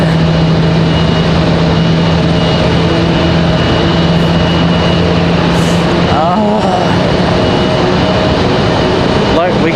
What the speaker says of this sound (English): we've got an A320 starting up over on the other side